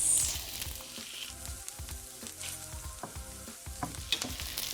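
Korean pancakes sizzle and crackle in a hot oiled pan right after being flipped, with steady frying hiss and scattered pops and scraping taps, close and fairly quiet.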